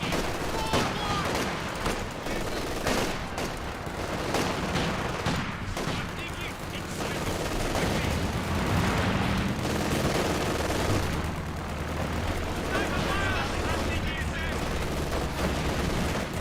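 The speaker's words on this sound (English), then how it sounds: "Sniper fire." Sniper and other gunfire in a strategy video game, heavy and continuous volleys of shots and booms throughout, loud and dense, layered with game sound effects and some voice audio.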